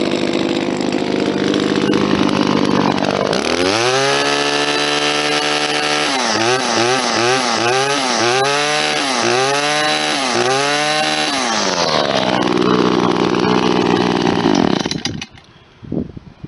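An Echo SRM-266 string trimmer with a modified muffler and long line out buzzes at idle, then revs up hard in a series of rapid pulsing throttle blips against the rev limiter before dropping back, loud and close.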